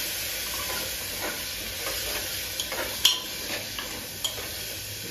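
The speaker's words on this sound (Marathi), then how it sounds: "मिश्रण सगळं आपण एकजीव करून घ्यायचं।" Onion being stirred into a khichdi mixture in a pan, giving a soft steady sizzle with scattered light scraping and clinking taps, close and alone without talk.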